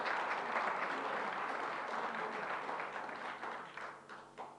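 Audience applause at the closing of a Special International Tibet Support Groups Meeting, a steady broad clatter of many hands that thins and tapers toward the end, with a few scattered claps and faint voices.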